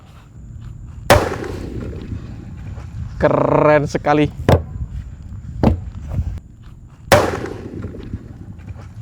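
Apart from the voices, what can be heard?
imported firecracker set off in a big drum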